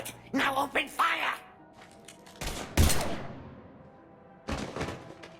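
Gunfire erupts in the sci-fi game Mass Effect 3. Brief talk comes first, then a sharp volley of shots with a heavy thump, and another burst follows a moment later.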